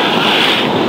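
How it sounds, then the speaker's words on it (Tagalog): A brief, loud rush of sea waves surging over a seawall with wind noise during flooding, a broad crashing wash that fills the moment without pause. "Pag umampas po yung alon, halos sumabot na sa taas yan"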